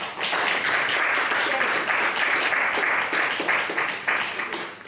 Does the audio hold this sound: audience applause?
yes